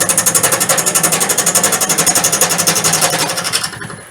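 A wood lathe spins an off-centre goblet blank with a crack, the uneven wood knocking against the tool in a fast regular rattling pulse, loud and close, before slowing to a stop near the end.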